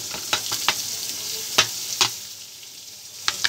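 Onions frying in a pan for pork adobong sitaw, a steady close sizzle punctuated by a series of sharp stirring clicks from a spoon against the pan.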